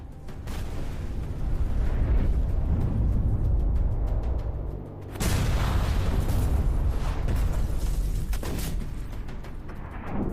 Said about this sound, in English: Flames swallow the vehicle, followed by a massive blast.